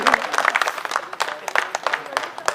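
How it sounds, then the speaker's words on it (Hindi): Scattered audience clapping at a Hindi comic poetry recital, uneven bursts of claps with some murmur, moderately loud. "पीछे वाले तालियां थोड़ा बजा दे"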